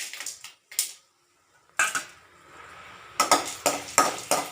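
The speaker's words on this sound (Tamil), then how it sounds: "அப்புறம் வந்து நான் வந்து உளுந்தும் கடலப்பருப்பும் ஒன்றாவே போட்டு வறுத்துக்கிறேன்" Urad dal and chana dal dry-roasting in a pan for a mint chutney: irregular bursts of rattling and scraping as the lentils are stirred against the metal, separated by short quiet gaps.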